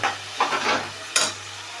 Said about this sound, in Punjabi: ਇਹਨੂੰ ਭੁੰਨਣਾ ਪੂਰੇ ਸੇਕ ਤੇ ਆ ਜੀ